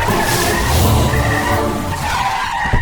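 A police vehicle speeds off in a film scene, tyres skidding and squealing loudly with the engine roaring close by for the whole stretch, no talk over it.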